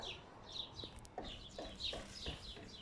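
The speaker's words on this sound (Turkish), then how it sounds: "Tavuk tam yanımda resmen." Hen clucks and short calls close by in a village, with several bird chirps and cackles scattered over a few seconds of outdoor ambience.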